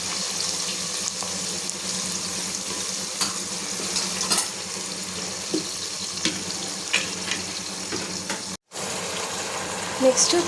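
Sliced onions sizzle in hot masala for Dindigul biryani while a spoon stirs them through. The frying hiss is dense and close and runs almost nonstop, with scraping stir strokes and one brief dropout near the end.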